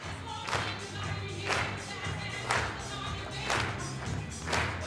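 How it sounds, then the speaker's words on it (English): A seminar audience claps in unison along to a song, a steady rhythm of broad hand-claps roughly twice a second over a low murmur of voices, loud and close. "We're going to clap"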